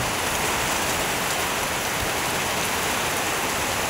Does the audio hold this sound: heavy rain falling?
yes